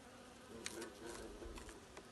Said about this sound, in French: Voilà, les frelons ne sont pas contents.